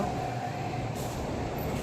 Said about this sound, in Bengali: একটু ট্রেনের আওয়াজ শুনতে পাচ্ছ।